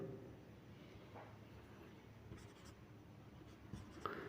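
Numbers being handwritten with a pen during a weight-measurement maths lesson, giving a faint, continuous scratchy scrawl with a few slightly sharper strokes near the end, quiet and close, with no talking.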